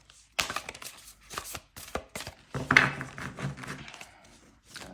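A deck of tarot cards being shuffled by hand, a loose series of sharp papery taps and brushing bursts, close and fairly quiet, with no talking.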